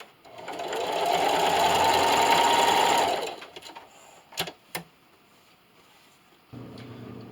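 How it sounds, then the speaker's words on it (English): A sewing machine runs a steady, close, whirring burst for about three seconds while stitching a fabric tablet stand, then stops, followed by a few sharp clicks and faint handling noises. "And don't forget to back stitch at the end."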